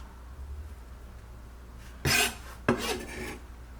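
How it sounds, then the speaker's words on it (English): Roasted butternut squash being mashed and scraped, two short rasping scrapes close by after a quiet start, the second longer and trailing off, with no speech. "give it a little mush, a little scrape, and we can transfer over to our squash"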